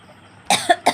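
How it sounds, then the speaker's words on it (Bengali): Three sharp, close coughs from an itchy, tickling throat come in quick succession after a quiet pause, loud and harsh against near silence. "আর মাঝে মাঝে খুবই কাশি হচ্ছে, গলার মধ্যে খুসখুস করছে আর কি"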